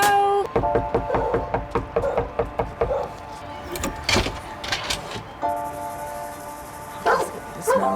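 Two dogs inside a rented house bark in a quick run of sharp, loud yaps, then more scattered barks with knocks and clatter, close by.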